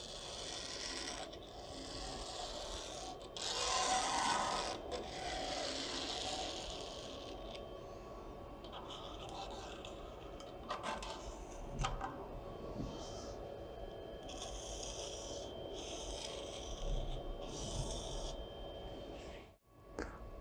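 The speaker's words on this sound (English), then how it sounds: "Friction in our model is simulated by sliding or rubbing something across the surface of the bridge." Pen rubbing and scraping across the surface of a model bridge to simulate friction. Raspy, uneven scratching comes in close strokes with small clicks and pauses, and it ends in a brief drop to silence.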